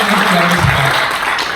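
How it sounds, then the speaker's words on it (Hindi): An audience at a talk breaks into loud, steady clapping that fills the short moment, with a voice faintly underneath. "उनके लिए तरह एक बार ताली होनी चाहिए।"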